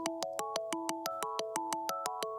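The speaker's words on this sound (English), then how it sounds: "And then we have another kalimba." Plucky, lightly processed kalimba in a music track, playing a steady run of about fifteen evenly spaced bright notes with sharp attacks and short ringing tails, close and clear with no voices.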